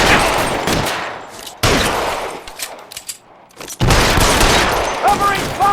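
Bursts of gunfire in an L.A. Noire shootout, loud and close, rapid volleys with a brief lull midway before heavy firing resumes, faint voices mixed in.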